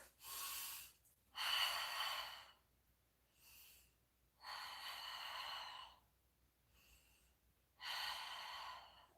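Deep breathing held through a yoga side plank, five long noisy breaths alternating in and out with short pauses between, close and fairly quiet, no talking.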